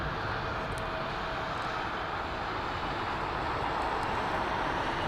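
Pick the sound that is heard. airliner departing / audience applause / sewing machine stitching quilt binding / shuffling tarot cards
airliner departing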